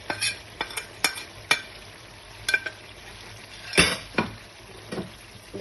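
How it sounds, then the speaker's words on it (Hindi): Spices for an aloo egg curry fry in a pan, with a soft sizzle under sharp, spaced clinks and scrapes of a spoon stirring against the metal, close up and without speech. "मसालों को थोड़ा सा भूनेंगे।"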